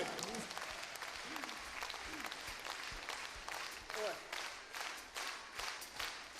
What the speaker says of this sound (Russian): Браво! Аплодисменты!